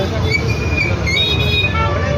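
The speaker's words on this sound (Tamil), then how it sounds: "பாருங்க இங்கே டிராஃபிக்காக இருக்குது" Busy road traffic in Tiruvannamalai ahead of the Karthigai Deepam festival, with a bus and other vehicles rumbling close by and repeated honking horns sounding over the constant roar of engines.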